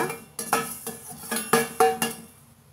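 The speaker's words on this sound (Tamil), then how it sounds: "கொஞ்சமாக வெந்தயம் மட்டும் இப்போ நான் வறுத்துக்கிறேங்க" Fenugreek seeds dry-roasting in a pan, with a handful of clinking, scraping stirs against the metal coming in quick uneven bursts, fairly close and with no voice.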